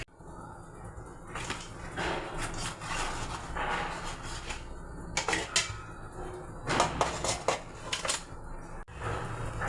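Pangas fish paturi being flipped in a frying pan, with a series of uneven metal scrapes and clatters from a spatula against the pan over a soft background hiss, fairly quiet and without speech.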